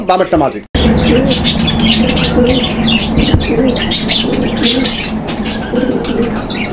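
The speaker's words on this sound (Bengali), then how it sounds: "কবুতরের ডাকটা আমি আপনাদেরকে দেখানোর চেষ্টা করলাম।" Pigeons for sale at a low-price market in Bangladesh coo and chirp repeatedly close by, with someone speaking briefly at the start over the steady bird calls.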